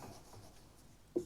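Numbers being written by hand during a maths lesson on arithmetic progressions, a soft continuous scratching that runs throughout before ending in a brief, louder tap.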